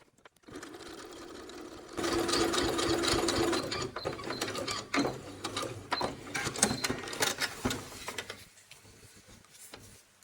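A sewing machine stitches a coin purse, running in a quick mechanical whir with rapid ticking needle strokes, steady at first and then breaking into shorter bursts and stops near the end, close and fairly quiet.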